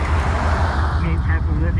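Traffic noise from cars driving past on a public road, a steady, fairly loud rumble with no clear single pass-by.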